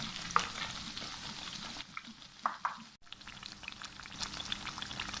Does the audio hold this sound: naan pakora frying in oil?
yes